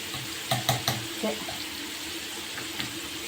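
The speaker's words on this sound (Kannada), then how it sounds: "ಚೆನ್ನಾಗಿ ಫ್ರೈ ಮಾಡ್ಕೋಬೇಕು ನೋಡಿ ಫ್ರೆಂಡ್ಸ್ ಈ ಥರ ಫ್ರೈ ಆಗೈತೆ" Tomato pickle frying in oil, a soft steady sizzle running underneath with a few sharp clinks and stirring knocks near the start, fairly quiet and close.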